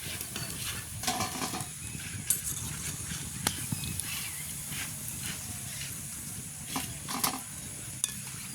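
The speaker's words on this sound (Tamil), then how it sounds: "வடை இப்போ நல்லா பொரிஞ்சிட்டு நாங்கள் படிச்செடுப்போம்." Vada fry in hot oil over an outdoor village stove, giving a steady soft sizzle and hiss with occasional stirring clinks and light knocks, moderately near.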